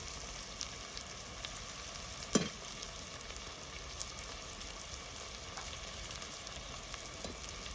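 Tomatoes, capsicum and onion fry in a pan with a steady soft sizzle and a few faint clicks from stirring, quiet and close, with no talk.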